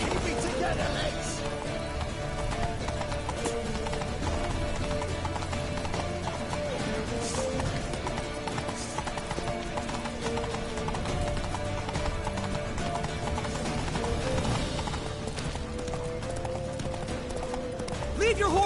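Galloping horse hooves in The Witcher 3 video game, a rapid continuous clip-clop beneath battle noise and game music, with characters shouting over it.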